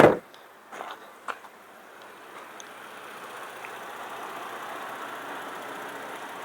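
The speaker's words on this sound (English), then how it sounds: "It's been sitting here at an idle now for a few minutes." A 2014 Chevy Traverse engine idles steadily after a heater hose repair, a low, even hum building slightly over time, with a few brief clicks and knocks near the start.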